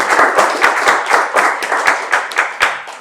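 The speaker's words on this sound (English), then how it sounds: "A round of applause." Loud audience applause at a couples game show: many hands clapping close by, with distinct sharp claps standing out in a roughly regular rhythm throughout.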